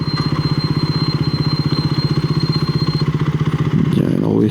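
A motorcycle ridden through Singapore streets, with a loud, close, steady rapid engine pulse throughout, rising into a rougher surge near the end.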